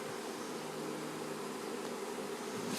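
A swarm of honey bees being housed in a hive box drones in a continuous, fairly faint buzz that stays even throughout with no voices.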